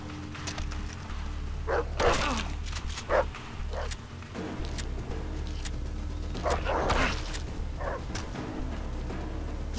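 A dog in the video game Far Cry 3 barks several times in short bursts over a steady low game hum, fairly close and clear.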